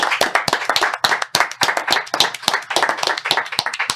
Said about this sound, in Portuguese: uma salva de palmas para todos aí